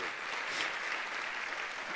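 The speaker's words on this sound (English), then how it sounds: "maybe we could just give them a round of applause" Audience applause at a business talk, honouring the tech crew at the back of the hall; dense, steady clapping from many hands that holds evenly for two seconds with no voice over it.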